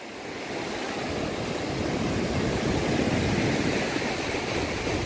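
Ocean surf rolling onto Praia da Armação beach in Penha, Santa Catarina, at midday, a steady, loud broadband wash of breaking waves with no voices.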